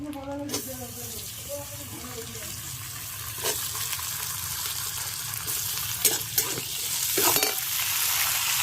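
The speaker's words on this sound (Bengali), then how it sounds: "এবার আমি আলুগুলো দিয়ে দিচ্ছি।" Potatoes added to a pan of fried onions hiss in hot oil with a steady sizzle, punctuated by occasional scraping and clanking as they are stirred; a voice is briefly heard at the start.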